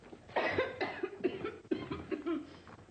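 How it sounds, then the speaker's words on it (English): A person coughs repeatedly in a rough, hacking fit of several harsh bursts, close and fairly loud. "You've a bad cough."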